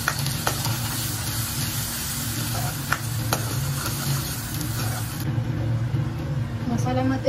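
Mutton masala sautéing in a pan with spices, a steady frying sizzle and stirring scrapes running continuously at close range, with occasional clinks of the utensil against the pan.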